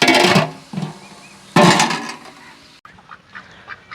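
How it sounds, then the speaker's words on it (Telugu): Loud, close duck quacking in two harsh bursts, followed by softer, higher peeping calls from ducklings. "పాపం ఈ చిన్న బాతులు ఇగోండి ఈరోజు అవతలకు వదిలేరు"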